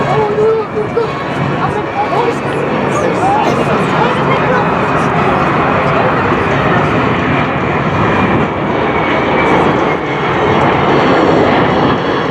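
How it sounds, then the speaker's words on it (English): A C-17 military transport aircraft passes over an airshow, its engine roar loud and steady throughout, a broad continuous rumble that barely fades, with crowd chatter mixed faintly underneath. "The C-17 can fly anywhere in the world, non-stop, using its air refueling capabilities."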